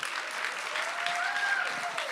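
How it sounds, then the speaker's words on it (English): An audience at an entrepreneur speaker series event applauds, a dense, steady wash of clapping from many hands that holds evenly throughout, with a faint tonal sound briefly under it. "give yourself a round of applause"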